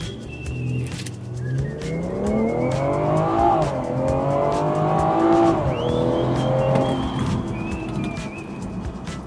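BMW 340i with its B58 engine pulling hard through a 0 to 60 run, the exhaust note rising in pitch through the gears with brief dips at shifts, loud and close, birds chirping faintly in the background.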